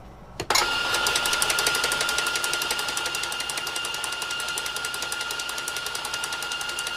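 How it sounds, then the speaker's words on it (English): A burr grinder in an espresso truck grinds espresso beans, starting with a sharp click and then a steady, loud whirring buzz with a rapid rhythmic rattle that runs on without pause and fades slightly toward the end. "So you grind all your own beans"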